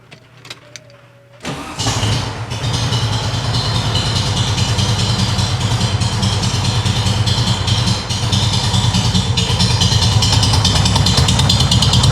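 A 1970 VW Beetle with a 1915cc dual-carburetor engine cranks briefly, catches and settles into a loud, steady, rough idle that runs on alone at close range with no talking.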